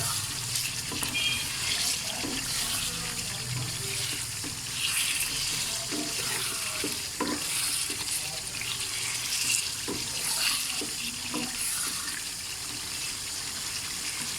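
Water runs steadily into a cooking pot of chicken karahi for over ten seconds, a continuous splashing wash with faint clinks, no talking.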